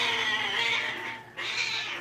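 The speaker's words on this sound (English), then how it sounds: "I don't know if they're killing the cat or the cat's killing the dog" A cat caterwauling in a fight with a dog outdoors, a sustained, strained yowl that dips briefly then surges again, fairly close and loud with no talk over it.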